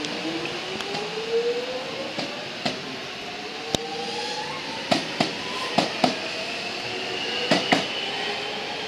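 A train hums and rumbles along a platform at Jolimont station, Melbourne, with a rising whine as it moves and a series of sharp metallic clunks scattered throughout.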